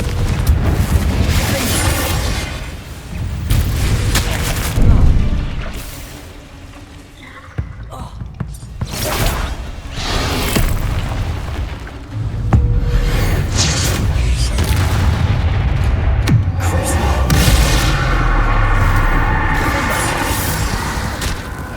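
Confringo blasting spells in Hogwarts Legacy set off repeated booming explosions and bursts amid dense game combat noise, loud and continuous, with a voice casting spells over it.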